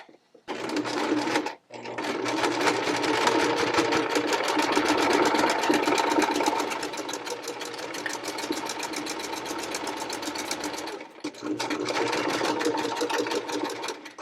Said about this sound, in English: Then I'm going to sew from the top of the bag down to the mark that I made